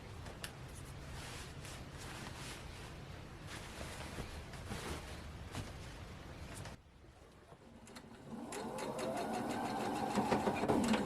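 Sewing machine stitching a quilt top, a steady, fast mechanical whirr that breaks off partway and then resumes louder and brighter, heard close with no talk over it.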